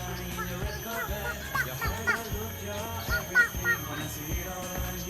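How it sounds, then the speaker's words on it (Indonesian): Ducks quack and honk in a busy, overlapping flock at a forest park in Palembang, Indonesia, with scattered calls rising above a steady background hum. "Nah, bebek."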